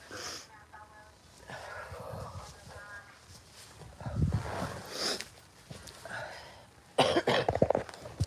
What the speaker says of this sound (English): Plus, I got a cough.